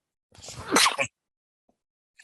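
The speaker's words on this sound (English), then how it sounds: "I'm going to sneeze." A single loud sneeze, a sharp burst with a brief windup, followed by silence.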